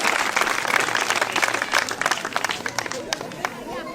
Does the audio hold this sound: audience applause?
yes